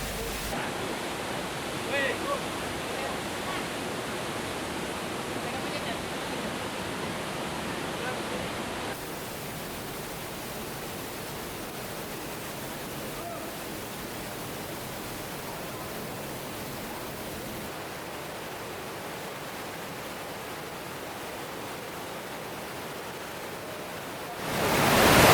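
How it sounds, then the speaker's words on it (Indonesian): Swift underground river rushing through Teratai cave, a steady, dense broadband roar of fast water that fills the space evenly throughout, shifting slightly in tone partway and swelling sharply at the very end. "Kita harus melintasi aliran deras sungai yang mengalir di dalam gua."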